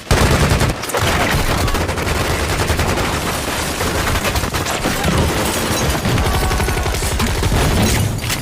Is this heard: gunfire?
yes